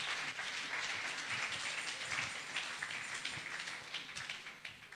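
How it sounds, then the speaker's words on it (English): A church congregation claps for a pastor during a sermon, giving a dense, steady patter of many hands that fills the space at moderate volume, with no talk over it. "Clap for Pastor Edem"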